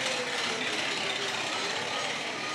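In a seaside holiday parade, a radio station truck's engine gives a steady, dense rumble that blends with the parade noise around it.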